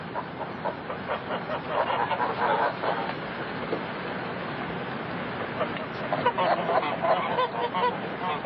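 A flock of geese being tended honks in clustered bursts, loud and close over a steady background murmur, with the calls thickest near the start and again toward the end.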